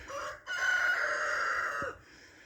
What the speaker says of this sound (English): Chickens are hiding back there in the darkness, waiting. They keep making a bit of a noise here and there